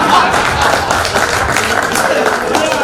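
An audience at a Haryanvi comedy poetry recital applauds in a steady dense wash of clapping that fills the whole moment, loud and close.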